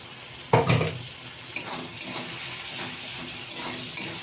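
Chopped boneless chicken hits a hot pan with a sharp burst of sizzling, then settles into a steady frying hiss with a few small crackles and stirring scrapes, close and alone.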